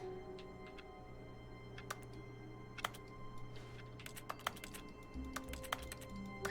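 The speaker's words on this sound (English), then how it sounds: "No matter what I click, it sounds like I'm still tapping at that keyboard." Computer keyboard keys tapped in The Stanley Parable: irregular, quiet clicks and a few sharper strikes over a steady low hum, with no voice.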